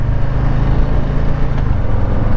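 A 2020 Harley-Davidson Low Rider S motorcycle engine rumbles steadily up close, a deep continuous throb with no talk over it.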